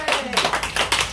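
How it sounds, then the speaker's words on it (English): Audience applause at a literary reading event in Brooklyn: a short burst of clapping from a crowd, fairly close and even, lasting just over a second. "A little more applause."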